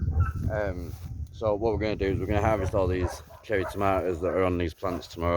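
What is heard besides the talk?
dogs barking at feeding time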